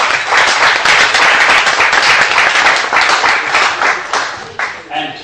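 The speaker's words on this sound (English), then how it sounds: "Let's give a strong round of applause" Applause from a conference workshop audience, a dense crowd of hands clapping loudly for several seconds before thinning out and fading near the end.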